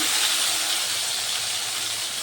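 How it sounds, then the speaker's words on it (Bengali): Ginger and green chilli paste fries in hot oil with bay leaf and five-spice seeds, a steady, loud, close sizzle hissing without a break. "আদা আর কাঁচা লঙ্কাগুলোকে একটু ভেজে নেব।"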